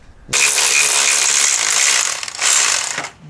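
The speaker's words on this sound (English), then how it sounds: "Just hit it with the ratchet gun" A ratchet gun buzzes in a harsh continuous mechanical rattle while working on a Toyota 2JZ engine, running in two close bursts near the microphone.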